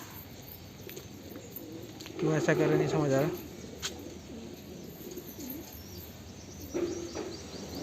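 Domestic pigeons coo on a rooftop, one clear burst of throaty cooing and a softer call later, close by, while someone speaks Hindi over a background hiss.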